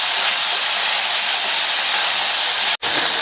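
Garlic and chopped medium tomato sautéing in a hot pan give off a steady, loud sizzling hiss throughout, broken by one brief dropout near the end.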